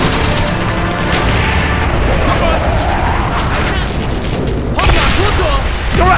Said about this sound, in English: Coming in for strafing run.